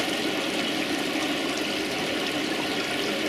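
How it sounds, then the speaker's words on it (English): Water flows and rushes steadily in a koi pond filtration system as the return pump is switched off, a continuous close, fairly loud gushing with no voices. "Literally turn the return pump off,"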